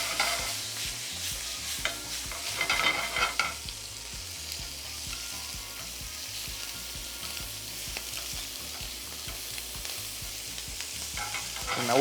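Chaufa fried rice is stir-fried in a hot pan, with a steady close sizzle and a rapid regular scrape-and-toss rhythm throughout, no voices.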